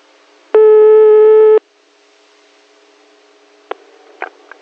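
A telephone tone sounds once on a prank call as a loud, steady beep lasting about a second, followed by quiet line hiss and a few faint clicks.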